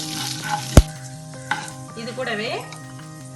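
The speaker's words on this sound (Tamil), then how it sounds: "இது பொரியட்டும்." Tempering spices with asafoetida and curry leaves spluttering and frying in hot oil for a chickpea sundal, with a close sharp pop near the start, a softer crackle later and a brief voice over the sizzle.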